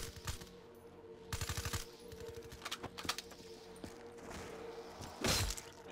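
Gunfire in the shooter game Call of Duty Black Ops 3: bursts of automatic weapon fire and scattered single shots at moderate volume, with a sharp loud crack near the end and other game effects in between.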